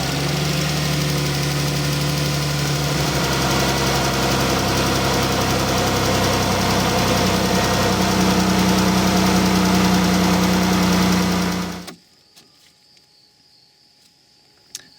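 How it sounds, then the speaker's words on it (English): A Dodge Grand Caravan minivan engine idles with a steady low rumble and faint knocking for about twelve seconds, then cuts off abruptly into near silence. "So we'll do that now, fire the engine up,"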